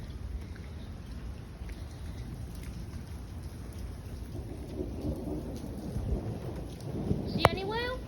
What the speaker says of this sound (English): I'm trying to catch the thunder on camera.